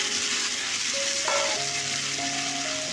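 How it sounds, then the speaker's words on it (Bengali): Dried red chillies and panch phoron splutter loudly in hot oil in a village kitchen, a dense continuous sizzle close up with some stirring and scraping over it. "আর কাঁচা শুকনো লঙ্কা দিয়ে দিলাম ফাটিয়ে"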